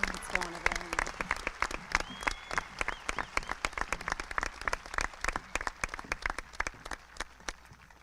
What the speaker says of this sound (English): Ladies and gentlemen, one more round of applause for this year's service winner